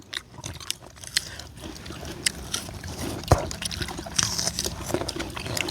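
Biting into a juicy water apple from a cashew orchard gives a soft crunch and wet chewing, close and faint, with a sharp bite partway through and light background noise.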